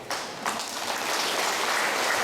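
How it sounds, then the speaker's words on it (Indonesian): Applause from a Catholic congregation at an Advent Sunday Mass, a dense burst of many hands clapping that starts abruptly and carries on steadily, filling the church without any voices over it. "Tepuk tangan untuk umat Katolik."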